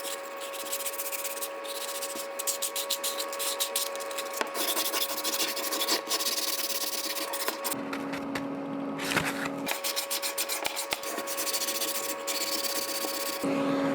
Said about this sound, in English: I actually really want to sand this.